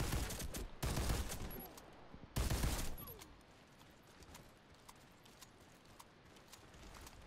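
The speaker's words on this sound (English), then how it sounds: "I'm loving this shotgun." A Tavor shotgun fires in Warface: two heavy, loud, close blasts about 1.5 seconds apart, each with a ringing tail, then quieter game ambience with faint clicks.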